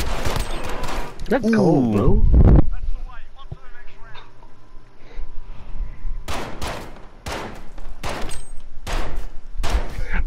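Rapid hip-fire bursts from a gun in Modern Warfare's 2v2 Gunfight mode. Sharp, close volleys repeat through the second half, and someone talks loudly before the shooting starts.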